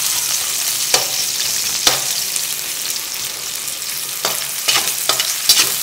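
Thin-sliced onion stir-fried in oil makes a bright, continuous sizzle, loud and close, punctuated by several sharp spatula scrapes against the pan.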